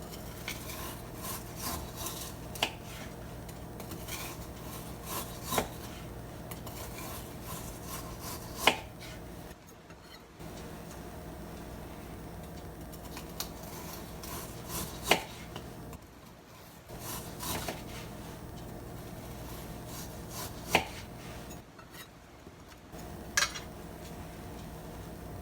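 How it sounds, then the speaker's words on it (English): A knife slices through homemade Greek chicken doner gyro meat in a steady run of close, crisp cutting strokes against a board, with brief pauses between sets of cuts. "make sure you cut it right straight through"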